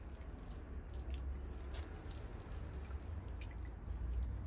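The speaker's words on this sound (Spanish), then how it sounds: "el agua sale sucia en el primer riego cuando se pone el sustrato nuevo" Dirty water draining and dripping steadily from a large pot of fresh substrate after the first watering of a transplanted pyracantha, a continuous soft trickle with no talk.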